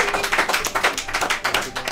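A school class and their teacher applaud together, a dense, steady patter of many hands clapping at once at moderate volume, with no talk over it.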